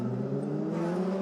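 Formula 3 race car at the Pau Grand Prix street circuit, a sustained high-pitched engine drone held steady and close for about a second, with no voices.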